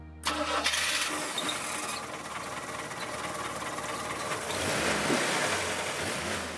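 A General Motors 2.5-liter Iron Duke inline-four in a 1982 AMC Concord Sundancer convertible cranks briefly, then catches and settles into a loud, steady idle close by.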